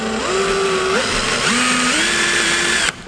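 A power drill bores a pilot hole into a front door, its motor whining loud and close in a steady drone that shifts pitch as it bites and speeds up, then cuts off sharply.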